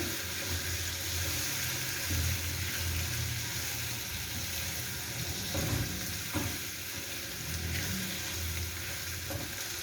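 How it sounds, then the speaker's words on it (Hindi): Minced meat with tomatoes, crushed red chili, black pepper and salt cooks in a pan, giving a steady, close sizzle with occasional stirring scrapes and clatter and no talking. "अब इसके अंदर टमाटर ऐड करेंगे और साथ ही मैं कुटी हुई लाल मिर्च, काली मिर्च और नमक ऐड कर दूँगी और इनको मिक्स करके पकाएंगे।"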